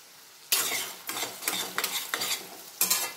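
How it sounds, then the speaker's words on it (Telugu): Finely chopped onions dropped into hot oil burst into a loud sizzle, followed by a series of stirring strokes that bring fresh surges of crackling in an uneven rhythm, with no one speaking. "నూనె కాగింది. సన్నంగా తరిగిన ఉల్లిపాయలు వేస్తున్నాను."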